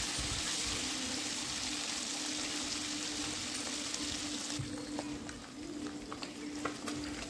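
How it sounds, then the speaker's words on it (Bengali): Catfish pieces frying gently in hot oil, a steady close sizzle that thins partway through into softer crackles and small pops, with no talking. "এপিট ওপিট 2 থেকে 3 মিনিট ভেজে নেব।"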